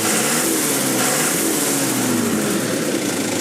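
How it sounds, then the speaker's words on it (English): The 4.7 liter four-cylinder diesel of a 1999 Mitsubishi Canter fire truck idles close by with a steady, loud, rumbling drone and no voices. "Have a listen to the engine."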